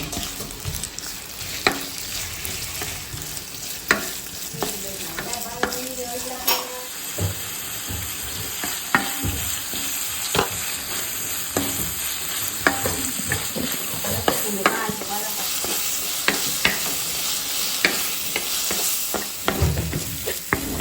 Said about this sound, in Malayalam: അതിലേക്ക് നമ്മൾ കട്ട് ചെയ്ത് വെച്ച ഉള്ളിയും സവാള, ഇഞ്ചിയും പച്ചമുളകും എല്ലാം ആഡ് ചെയ്ത് കൊടുക്കുക. അതിനുശേഷം കുറച്ച് ഉപ്പും കൂടി ഇട്ട് നല്ല രീതിയിൽ നമ്മൾ വാട്ടിയെടുക്കുക.